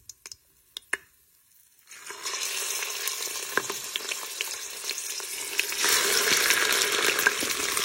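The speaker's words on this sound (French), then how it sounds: "il va me rester l'huile de cuisson. Je vais pouvoir y ajouter tout de suite la viande." Meat dropped into hot leftover cooking oil for a Tunisian chickpea and cauliflower stew, a few light clinks followed by a sudden loud, steady sizzle that grows stronger and crackles close by.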